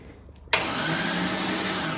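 A Corvette engine in a Wrangler build cranks over with no spark plugs fitted, a steady loud whirring drone that starts abruptly and runs on evenly without firing.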